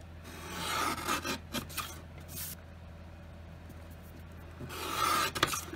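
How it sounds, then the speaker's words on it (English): A paper guillotine slicing through pre-marked card pieces, giving two rasping cutting strokes, one early and one near the end, with quiet handling sounds between, close and alone. "So now I can just put these in my guillotine"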